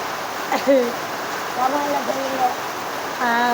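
Heavy pouring rain makes a steady, loud hiss throughout, while a person talks over it in short bursts.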